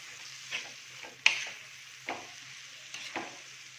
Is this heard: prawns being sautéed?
yes